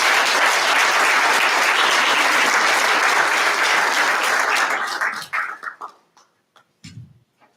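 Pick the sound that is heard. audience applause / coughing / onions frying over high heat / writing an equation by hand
audience applause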